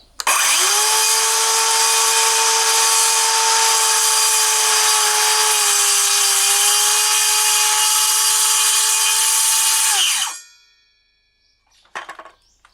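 A Dewalt DCS570 cordless circular saw whines at a steady high pitch for about ten seconds, loud and close, then spins down and stops, followed by a few faint clicks.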